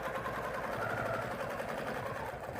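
A sewing machine stitches a quilt block with a fast, even mechanical whir, continuous and close throughout.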